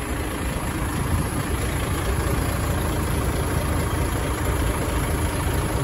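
A DAF XF 105 six-wheeler space cab truck with a 460 engine idles steadily, a continuous low diesel rumble holding an even level throughout with no voices.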